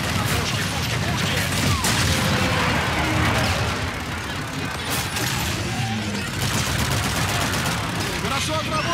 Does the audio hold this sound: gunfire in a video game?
yes